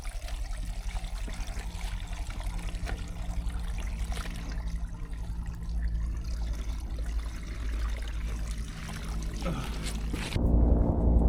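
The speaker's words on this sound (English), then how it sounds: "Fills your bottle up like a waterfall." Stream water in the Peak District hills pouring into a bottle, a continuous splashing trickle close by under outdoor rumble, ending in a brief louder gush.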